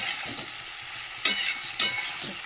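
Snake gourd fries in oil in a pan with a constant close sizzle, broken by a couple of louder spatters or stirring scrapes, and no one speaking.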